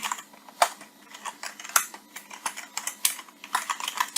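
Quick, irregular clicks of a computer keyboard while C# code is typed, close and crisp, with a few louder keystrokes standing out and no voice over them.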